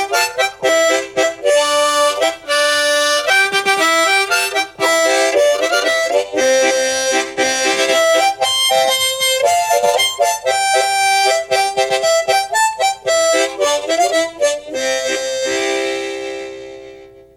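Harmonica folk tune with chords thrown in by the tongue, dense reedy harmonies pulsing in a steady rhythm for a long unbroken stretch, close and loud, fading at the end without any talk.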